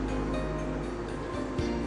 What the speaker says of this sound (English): evaporator is running.